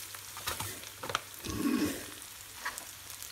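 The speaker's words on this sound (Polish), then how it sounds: "Podsmażam trochę cebulkę, a następnie dodam wyciśnięty czosnek." Onion fries gently in a pan while being readied for shakshuka, a soft sizzle with a brief louder crackling surge midway and light clinks of stirring, with no voice over it.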